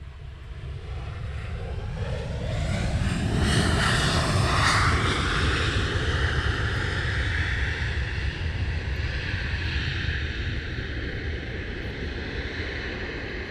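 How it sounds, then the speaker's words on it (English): A Ryanair airliner lands at Luton Airport in fog, its engine roar swelling from a distance to a loud, broad rush that peaks and then holds as a steady, fading rumble while the aircraft rolls out. "That's your Ryanair down."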